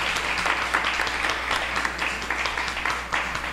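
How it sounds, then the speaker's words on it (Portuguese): A church congregation applauds during a worship service, with dense, even clapping close by that continues without a break. "Você que pode, aplaudir ao Senhor pela vida dessas pessoas."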